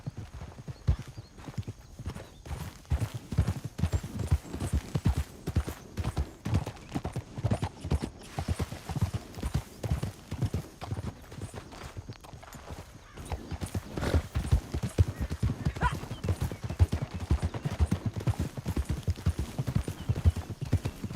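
Steady clip-clop of horse hooves trotting in Red Dead Redemption 2, a continuous rhythmic beat of hoofbeats with a brief softer stretch midway.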